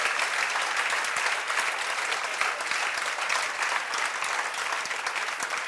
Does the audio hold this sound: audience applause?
yes